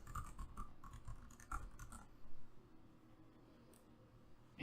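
A password being typed on a computer keyboard, a quick run of soft, close key taps for about two seconds before falling quiet.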